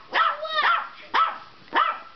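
A Yorkie barks at another dog in the yard, giving four sharp, close yappy barks in an uneven rhythm.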